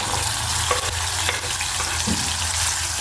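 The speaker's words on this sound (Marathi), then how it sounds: "तेल गरम झालेलं आहे त्यात मी कट केलेला टमाटर टाकून घेणार आहे" Chopped tomato sizzles and spits in hot oil in a pan, a loud, steady frying hiss with occasional crackles and pops throughout, close up and without voices.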